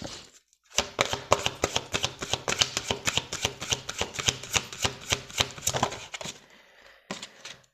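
Oracle advice cards being shuffled: a long run of rapid, crisp riffling snaps, close and loud, followed by a short pause and a brief final burst.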